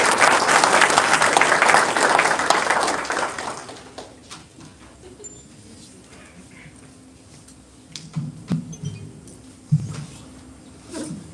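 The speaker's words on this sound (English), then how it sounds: "How about another round of applause for our guest speaker?" Audience at an induction ceremony applauds a guest speaker, a loud round of clapping that fades after a few seconds into quieter room noise with scattered knocks and murmurs.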